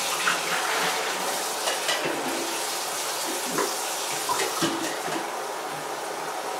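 Steady rush of running tap water splashing into a sink or basin during home film processing, constant and fairly close, with small clinks and shifts as the flow is adjusted.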